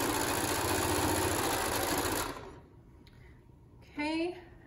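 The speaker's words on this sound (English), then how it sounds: "I'm just gonna sew the 1/4 inch seam" A sewing machine stitches a quarter-inch seam on patriotic star quilt block strips, a steady dense whir running loud for about two seconds and then stopping, followed by quiet and a brief voice.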